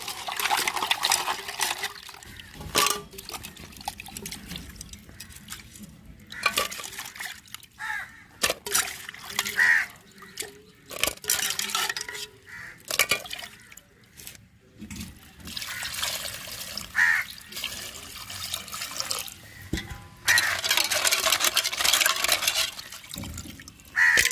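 Water runs and splashes intermittently as crab is washed, in irregular trickling bursts with pauses between them, and crows caw in the background.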